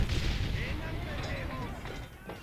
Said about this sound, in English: you get to use the cannon.